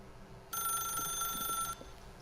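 A telephone rings in The Stanley Parable, one clear electronic ring lasting just over a second at steady volume over a quiet low ambient hum.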